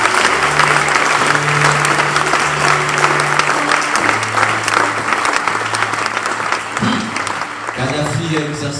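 A church congregation applauds, dense sustained clapping filling the room close and loud, with voices mixed in underneath.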